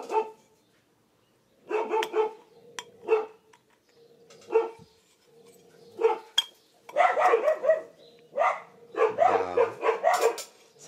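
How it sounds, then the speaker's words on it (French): A dog barks repeatedly in loud close bursts, some rapid and excited, separated by short pauses, with a few whining yips mixed in, during a TGB 50cc scooter engine rebuild. "là encore le toutou qui se déchaîne"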